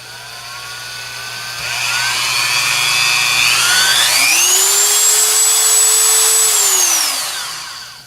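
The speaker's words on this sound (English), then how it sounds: "I'm going to plug my Dremel into the lower socket and just for test purposes" A Dremel rotary tool, plugged into a newly replaced workbench outlet, whirs up in a loud close whine that climbs in pitch, holds steady at high speed for a few seconds, then winds down as it is switched off.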